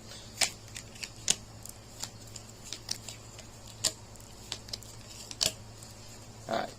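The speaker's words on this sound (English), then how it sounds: "Alright, shuffle one more time and we'll begin." Tarot cards are shuffled by hand: quiet, irregular riffles and crisp taps spaced through a hushed room, with a slightly louder flurry at the end and no voices.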